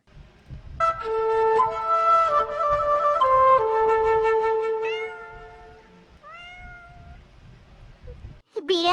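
A cartoon cat meows in long, drawn-out, loud wails, one sustained cry followed by shorter rising mews, close and clear with little else around.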